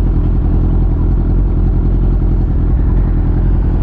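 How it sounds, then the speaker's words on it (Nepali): An old Honda Hornet 600 motorcycle idles close by, its engine giving a loud, steady low rumble with an even, lumpy pulse and no change in revs. "होन्डाको हर्नेट 600 पुरानो."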